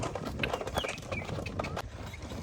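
Horse hooves clip-clop along a difficult path, a busy irregular patter of hoofbeats with some bird chirps mixed in, fairly close and steady before easing off near the end.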